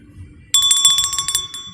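A small handheld bell rings at a roadside restaurant beside a main road: a quick run of bright, clear rings that starts abruptly over quiet background murmur and then fades.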